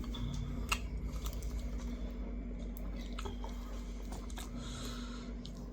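Close chewing while eating rice with fried catfish seasoned with mala powder, soft repeated squishy mouth sounds over a steady low background hum, with no talk.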